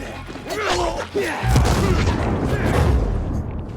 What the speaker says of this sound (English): The thing about the grenades is that they might be loud